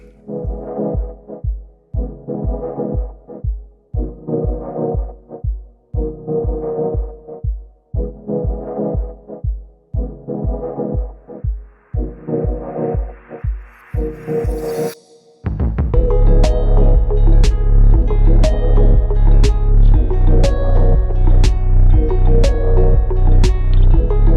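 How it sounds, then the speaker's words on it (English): A Brother Entrepreneur Pro X PR1055X embroidery machine stitching, first a loud rhythmic thumping at an even pace, then a fast continuous buzzing drone with regular clicks. "once we hit that, we're stitching"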